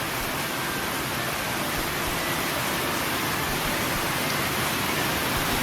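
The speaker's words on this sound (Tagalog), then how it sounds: "Ang lakas po ng ulan." Heavy rain falling steadily at a farm during a delivery of quail, a dense, unbroken hiss at constant loudness with no pauses or voices.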